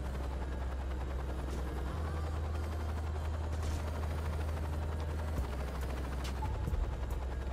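Damaged, smoking helicopter in the PC game Saints Row 2, its steady low rotor roar filling the scene while scattered gunfire-like bursts and clatter crop up over it, especially near the end.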